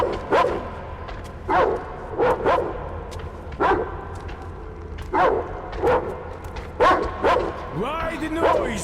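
A dog barks in repeated sharp bursts, roughly one every second, with some higher yips and a whimpering tail near the end, fairly close and clear over a low background hum.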